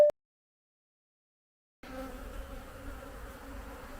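A hive of honeybees preparing to swarm gives a steady, dense buzzing drone close by. It begins after a short silent gap and continues evenly with no talking.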